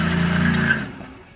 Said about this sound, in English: This is a 2001 Mustang Bullitt.